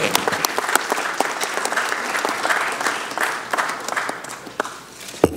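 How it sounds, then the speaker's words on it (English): A crowd at the Los Angeles City Council's Koreatown Day resolution ceremony gives a steady, fairly loud round of applause, with a few sharp claps standing out as the clapping thins toward the end. "Let's give him one more round of applause."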